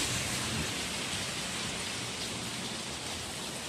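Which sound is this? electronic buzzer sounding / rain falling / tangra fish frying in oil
rain falling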